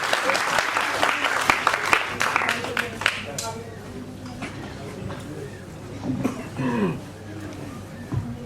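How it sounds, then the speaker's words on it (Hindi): Audience applause at a Bollywood music night, a burst of clapping for about three seconds that fades out, followed by a voice talking, with a little scattered clapping returning near the end. "जोरदार ताली"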